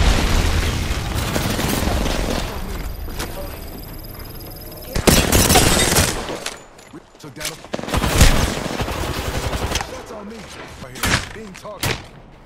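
Bursts of automatic weapon fire in an Apex Legends match, rapid rattling volleys and sharp impacts coming in clusters with brief lulls, mixed with game effects and some background noise.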